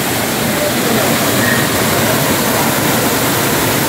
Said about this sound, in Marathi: वाहता धबधबा